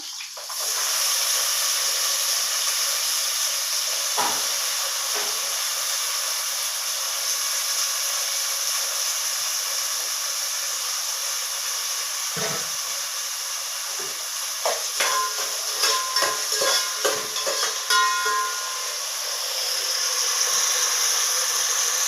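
Vegetable pieces for veg biryani fry in a pan with a steady, loud hiss and sizzle that runs throughout, broken by scattered clinks and scrapes of stirring, busiest near the end.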